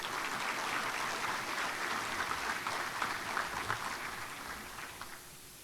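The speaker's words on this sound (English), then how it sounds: "If we could please give all of these new members a round of applause." Steady audience applause at a Chamber of Commerce monthly luncheon welcoming new members, a continuous, even clapping from a room of people throughout, tapering slightly at the end.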